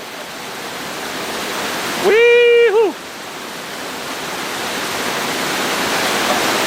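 Victoria Falls in Dominica pours in a constant broadband roar, while a person lets out a brief, loud whooping cheer over it near the middle.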